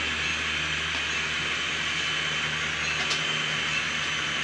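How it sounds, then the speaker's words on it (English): Several model trains circle a miniature railway layout at different elevations, making a steady, continuous rumbling hiss with no voices and no clear breaks. "You see right now several of the trains coming around at the different elevations."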